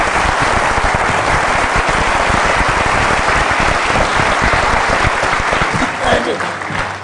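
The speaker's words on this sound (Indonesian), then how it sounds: "Kita berikan aplaus untuk Pak Sidik." Sustained audience applause fills a studio during an awards show honoring heroes on the Kick Andy television program in Indonesia, loud and dense throughout before easing slightly near the end.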